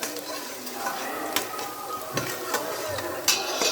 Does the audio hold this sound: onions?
yes